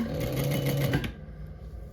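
Close, rapid whirr of a sewing machine stitching a hoodie shoulder seam, running for about a second before stopping abruptly, leaving a quiet room.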